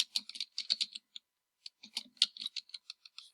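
Quick bursts of clicking keystrokes on a computer keyboard, close and fairly quiet, in two clusters of rapid typing separated by a brief pause.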